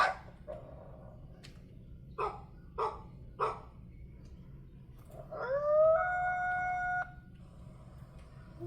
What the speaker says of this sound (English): some coyotes howling